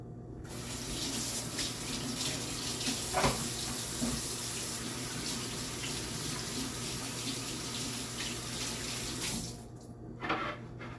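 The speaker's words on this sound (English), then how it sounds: "Now I'm going to wash my stinky hands." Water runs steadily from a kitchen sink tap while hands are washed beneath it, a close continuous splashing stream that briefly drops away near the end.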